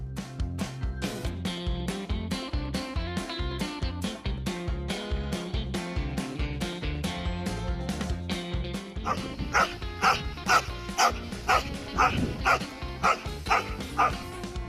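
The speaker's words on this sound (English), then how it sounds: "the dog fought a vacuum cleaner for a good cause" A dog barks repeatedly at a vacuum cleaner in rapid, regular yips and bow-wows throughout, growing louder and sharper toward the end.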